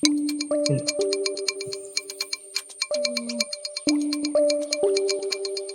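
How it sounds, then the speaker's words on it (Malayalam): A mobile phone ringtone rings out in a repeating electronic melody, clear and fairly close, with pauses between its phrases and a brief snatch of background voice. "അങ്ങോട്ട് എടുക്കണില്ലടി റിങ് പോകുന്നുണ്ട്"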